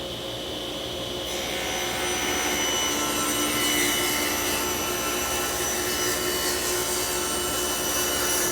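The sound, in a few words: saw cutting wood with a Harvey Compass RG 2 roller guide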